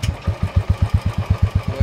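A Royal Enfield Classic 350 BS4 motorcycle engine idles close by, thumping in a steady, even rhythm of low pulses with a light, normal tappet ticking over the top.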